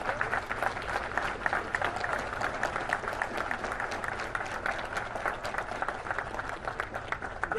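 An audience at a military re-enlistment oath ceremony gives sustained applause, with many hands clapping close and loud in a busy, even patter throughout.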